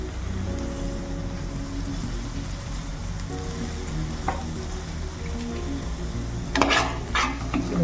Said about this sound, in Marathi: ते छान मिक्स करून घेऊया.